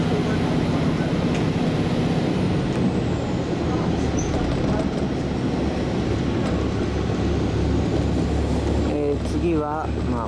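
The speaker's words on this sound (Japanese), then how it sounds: "ディーゼルの音はいいですね。 このゴッゴッゴッゴッっていう、まあ、なんて言ったらいいんだろうな、エンジンを上げていく音が" The diesel engine of the Isaburo train, heard from on board, builds in a steady, loud, low throbbing drone that runs the whole time. Speech-like sounds come through near the end.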